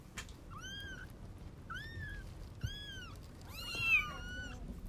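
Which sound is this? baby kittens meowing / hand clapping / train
baby kittens meowing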